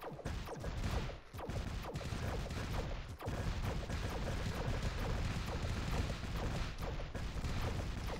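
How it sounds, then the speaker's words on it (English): A carrot gun firing explosive carrots in the video game Kitten Squad, a rapid clatter of repeated shots and bursts with a few sharper blasts, continuous and moderately loud with no talking. "It shoots explosive carrots."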